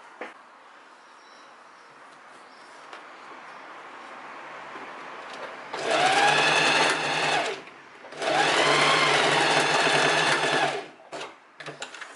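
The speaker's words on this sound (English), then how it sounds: "now we're going back to the sewing machine, and we're just going to close the hole" A sewing machine stitches a seam closed in two steady, loud whirring bursts, each a few seconds long, with a short pause between and quiet room noise around them.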